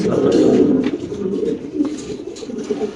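Fancy pigeons at a large pigeon farm coo in low, throaty, rolling calls, close and fairly loud, overlapping steadily throughout.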